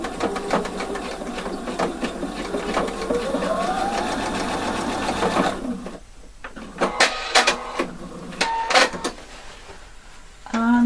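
A domestic sewing machine stitches a convertible collar seam with a fast, continuous whir for several seconds. It stops, then comes back in short bursts, with quieter handling noises in the gaps.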